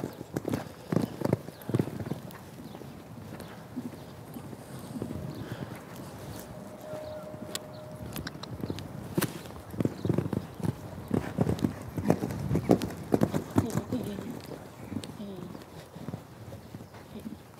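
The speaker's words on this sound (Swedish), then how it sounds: "Låter hästen få gå i en balanserad galopp och sen ta nästa händer." A horse canters around an arena in a jumping clinic, hooves thudding in a rolling three-beat rhythm that grows louder and closer, with a brief snort and a trainer's voice talking at times.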